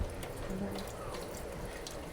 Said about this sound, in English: I've got to rinse off my debubbler so I don't have salt